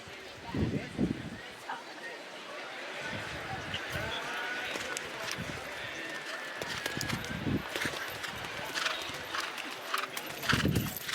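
Horse hooves clip-clop steadily through a schooled jumping round, with a gymnastic exercise of fences, fairly close and rhythmic, while a commentator talks over much of it.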